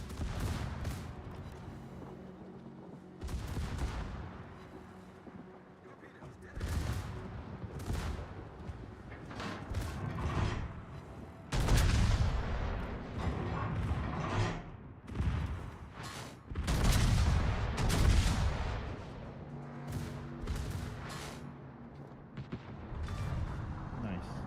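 Naval guns firing in the World of Warships video game: repeated booming salvos and bursts of gunfire come in waves over a rumbling battle background, with voices at times.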